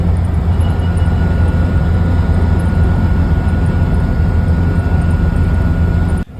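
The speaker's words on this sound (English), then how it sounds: "It's a high-pitched whine coming from the transfer box." Steady high-pitched whine from the transfer box of a Land Rover Defender 90 cruising at about 110 km/h, loud and continuous over the road and engine drone, cutting off at the very end.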